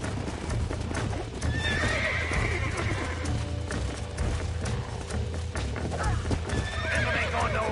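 Horses in the Red Dead Redemption video game gallop with steady clip-clop hoofbeats while whinnies and neighs rise over a low rumbling background, close and continuous.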